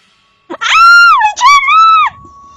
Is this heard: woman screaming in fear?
yes